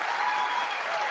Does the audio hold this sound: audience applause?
yes